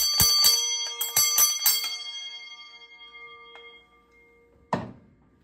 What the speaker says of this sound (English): back then it was a fire gong, which is a bell for a fire engine.